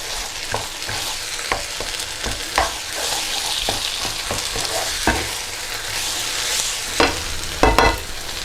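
Tomato puree being stirred into chili con carne sizzling in a pan, a continuous frying hiss broken by repeated scraping knocks of the spoon against the pan.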